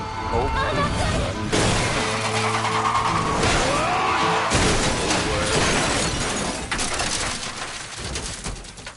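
Truck crash in The Last of Us Part II video game: a loud, dense burst of crunching impact, shattering glass and skidding that fills several seconds, with talk over it.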